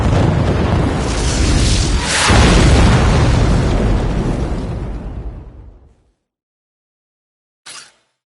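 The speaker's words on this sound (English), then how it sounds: "Watch out for explosions." A big explosion in the shoot-'em-up video game Raiden V, a loud booming blast that rumbles for several seconds and fades to silence, followed by a brief faint pop.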